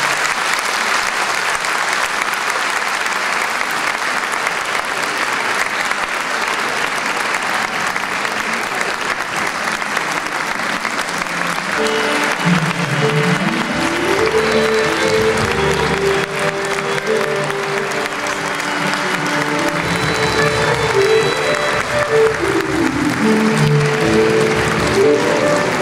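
Sustained applause from an audience at a Turkish Atatürk centenary concert greets a Turkish classical music choir taking the stage, a steady dense roar of clapping filling the whole stretch, with music beginning to rise beneath it midway.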